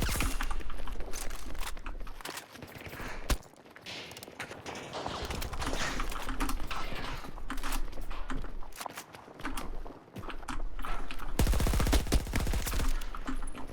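An MG4 machine gun firing in the Battlefield 2042 video game, sustained rattling bursts with brief pauses and more rapid fire near the end, loud and close amid busy game noise.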